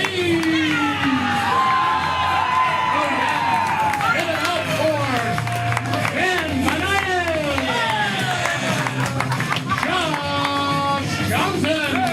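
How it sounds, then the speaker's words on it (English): A comedy show audience applauds and cheers for the players taking the stage, dense clapping with whoops and shouts, loud and continuous, with a voice talking over it. "Keep those applause going"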